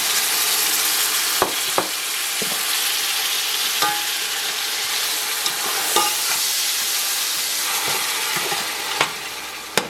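Chopped tomatoes and ginger garlic fry in a pan for mutton tahari, a loud steady sizzle close by, punctuated by sharp clacks of a spoon stirring and scraping against the pan, with no talking.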